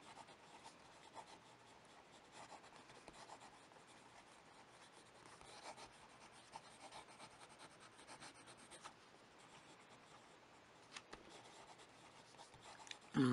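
A Kaweco Sport fountain pen writes fast on paper in a faint, close, continuous scratchy rustle with small nib strokes and ticks, steady for the whole stretch with no talk.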